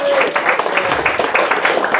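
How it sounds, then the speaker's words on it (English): An audience applauds at an evening music concert, a dense, steady wash of clapping that stays loud throughout, with voices mixed in. "give yourselves a round of applause"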